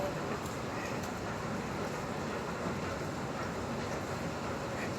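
Steady rumbling hum of a train inside Merdeka MRT station in Malaysia, an even, continuous low roar with faint high hiss, no voices.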